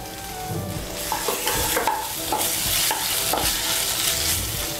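Chopped tomato frying with ground spice paste for a cabbage kofta curry, a loud close sizzle with repeated spatula scrapes and stirring clatter throughout, no talking.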